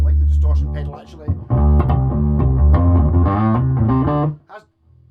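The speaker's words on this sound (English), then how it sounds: "Quite like the distortion pedal actually." Distorted bass guitar played through a distortion pedal into a GT1000 amp, thick sustained notes and chords ringing loud and close, with a short pause mid-phrase before the playing resumes and cuts off.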